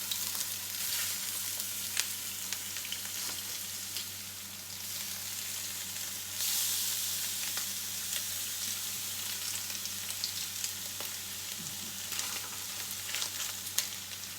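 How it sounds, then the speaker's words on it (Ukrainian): Continuous crackling sizzle of meat fillet frying in hot oil, with occasional sharper pops and a steady low hum behind it. "нашу філейку обсмажуємо з цих боків"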